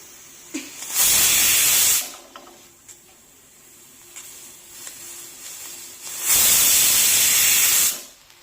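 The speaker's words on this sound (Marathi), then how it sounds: "तर पहा, कुकरच्या 2 शिट्ट्या झाल्या आहेत" A pressure cooker cooking coconut rice on medium heat releases two loud hissing steam whistles, each lasting about a second or more and separated by several seconds of quieter simmering and faint rattling, close and without speech.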